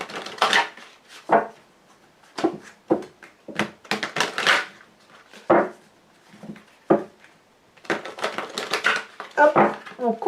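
A Lenormand card deck is shuffled and cut on a table, with a run of close, crisp clicks and riffles that come in irregular bursts separated by short pauses.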